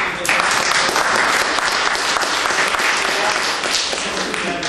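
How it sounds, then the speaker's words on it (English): A room of home food producers breaks into loud, dense applause for Eric, a representative from a legislator's office, a continuous wash of clapping with a few voices mixed in. "I want to just give Eric a round of applause."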